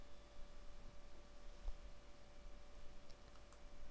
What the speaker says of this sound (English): I could just type hello back or something like that